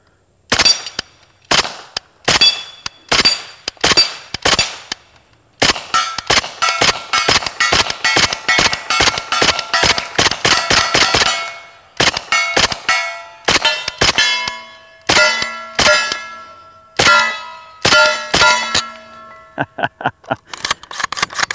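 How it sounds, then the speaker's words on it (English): A Kalashnikov USA KP9 carbine fires long strings of rapid semi-auto shots, each crack followed by a bright metallic ring from a steel target downrange, loud and close with short pauses between bursts. "in the head of that target, that shoot steel D28 down there."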